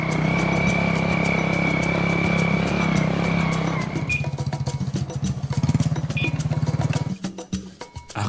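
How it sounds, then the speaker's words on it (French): A motorcycle rides along with a steady engine drone and a whining tone, then the engine note shifts into a choppier, pulsing rhythm before easing off near the end, close and fairly loud. "Ensemble avec lui, nous nous dirigeons à moto chez Ntumwa Ubin Moyokolo."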